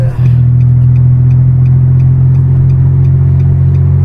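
A Datsun Go Panca engine drones loudly and steadily from inside the cabin while accelerating, pulling along at a steady low pitch with a faint rhythmic ticking above.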